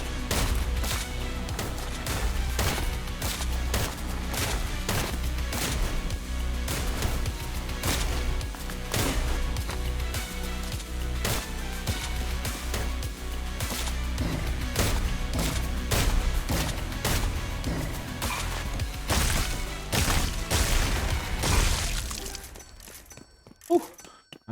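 Continuous gunfire from the rhythm roguelike shooter game Killbeat, loud rapid shots pulsing in time with driving music for over twenty seconds, then cutting out near the end.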